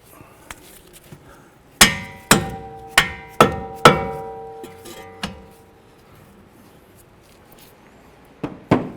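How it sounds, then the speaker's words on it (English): Metal hammer blows striking wheel hub bolts on a 2012-17 Toyota Camry during a CV axle replacement: an opening tap, then a run of five or six sharp ringing clangs, with a few further knocks later, close and loud. "Give these bolts a little bonk and work those bolts out there."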